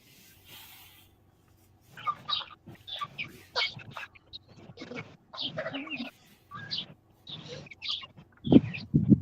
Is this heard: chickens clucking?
yes